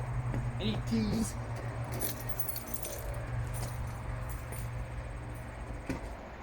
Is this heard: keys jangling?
yes